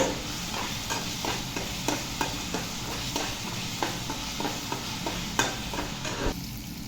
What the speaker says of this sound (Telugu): అల్లం వెల్లుల్లి పేస్ట్ పచ్చివాసన పోయే వరకు వేగనివ్వాలి.